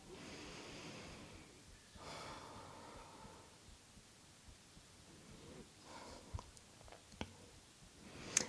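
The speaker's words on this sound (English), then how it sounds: "Just a few more big, slow, deep breaths here." Slow, deep breaths during a yoga flow: long, soft inhales and exhales with a few faint nasal snorts and small clicks near the end, quiet and close.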